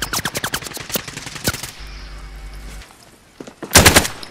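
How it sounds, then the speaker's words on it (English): Rapid gunfire crackles in a Warzone match: a fast run of close, loud shots, a short lull with a low hum, then another sharp, loud burst near the end. "They're shooting at me."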